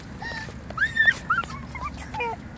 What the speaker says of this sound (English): Nice puppy. That's a nice dog right